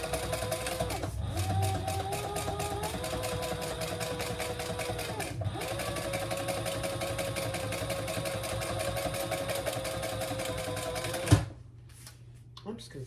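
Sewing machine top stitching a bag lining with strap pieces, a fast steady mechanical whir and stitch rattle running continuously, then stopping abruptly near the end with a click, followed by quiet room tone.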